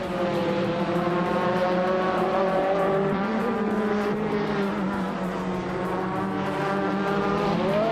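Race car engines roar continuously in a racing video game, including an orange Ferrari 488 GTE, a dense, loud drone of several close engine notes shifting in pitch together, with no talking.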